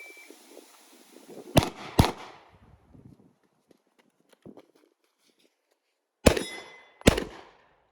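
Gunshots ring off steel targets at an outdoor shooting range: two sharp shot-and-clang pairs, each followed by a fading metallic ring, separated by a quiet gap, loud and close with no talking.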